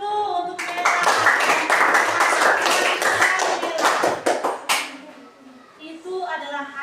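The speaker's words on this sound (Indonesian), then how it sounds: "Oke, tepuk tangan dulu untuk mereka." Audience applause for a discussion group in a classroom setting, a dense burst of many hands clapping for about four seconds that thins out and fades, followed by faint voices.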